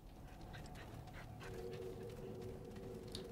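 A companion dog in the video game Remnant 2 pants in quick, soft, rhythmic breaths close by, with a faint tonal hum from the game running underneath.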